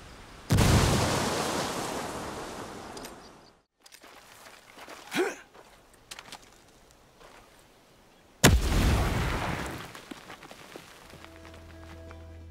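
A grenade blast in Ghost Recon, a loud booming roar that decays over a few seconds, followed by scattered gunshots and movement, then a second heavy explosion rumbling out near the end.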